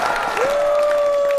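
Studio audience at a comedy roast show breaks into applause, a dense steady patter of clapping that holds for the whole moment, with a sustained tone ringing over it.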